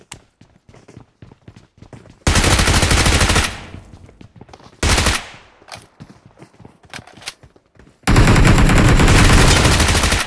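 Shotgun fire in the battle game BGMI: three loud, close bursts of heavy gunfire, each lasting about a second or more, separated by quieter gaps with faint clatter.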